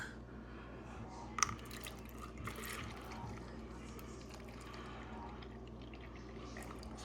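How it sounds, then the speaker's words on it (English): Milk pouring into a protein shaker cup, a steady liquid stream with a soft fill sound and a few drips throughout, moderately quiet. "We're gonna pour in the milk."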